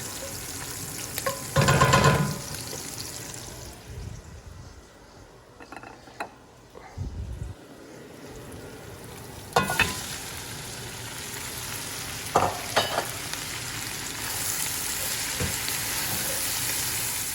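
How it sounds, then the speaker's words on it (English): Vegetables hit a hot frying pan for a bolognese, a loud burst of sizzling followed by steady frying, with scattered clanks and scrapes of utensils and occasional stirring. "We're gonna throw in the vegetables now."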